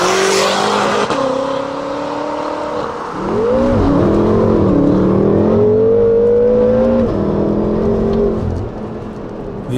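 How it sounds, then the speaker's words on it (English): BMW F10 M5 fitted with an Armytrix valved exhaust, revving loud and close, the engine note rising and falling in sustained pulls with a sharp surge midway and no talking. "It's loud, it's aggressive, turbo noises, pops, cracks, burbles, just a phenomenal exhaust tone."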